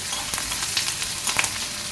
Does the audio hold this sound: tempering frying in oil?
yes